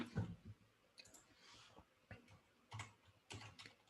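Keys on a computer keyboard click quietly in scattered bursts during a coding session at a tech meetup, with irregular taps and short pauses between them.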